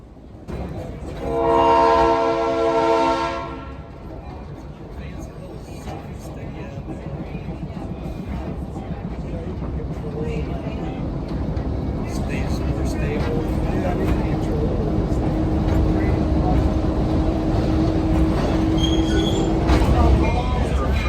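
A train horn blares loudly for a couple of seconds, then a steady rumble of railcars rolling past a road crossing builds and continues, with wheel noise and faint voices, heard from aboard a heritage train in Clinton, Michigan.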